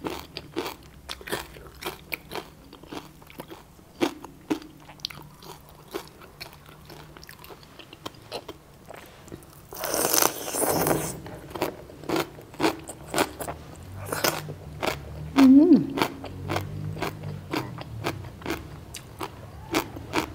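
Someone eats crispy pork belly with green papaya salad, producing close, sharp crunches and bites in an irregular rhythm, with a louder burst of rustling midway.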